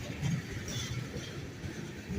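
A Norfolk Southern freight train with helper locomotives works up the west slope at Brickyard, a steady rolling rumble with wheel noise, loud and continuous with no talk.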